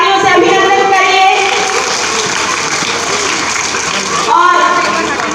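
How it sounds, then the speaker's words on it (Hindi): Loud, sustained applause from a gathering of children and guests at a centenary commemoration event, a dense wash of clapping that holds steady for several seconds and swells again near the end. "बच्चों, एक बार जोरदार तालियों से अभिनंदन करिए।"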